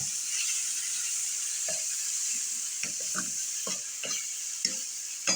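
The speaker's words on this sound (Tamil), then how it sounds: "வெங்காயம் நல்லா வதங்கிட்டு இப்போ கீரையை வந்து சேர்க்கணும். அரைஞ்சி வச்சுருந்த கீரை சேர்த்துட்டு" Ground greens frying in a pan with sautéed onions for a South Indian keerai kadaisal, giving a constant hissing sizzle under a series of scraping stirs that land every second or so, close to the pan.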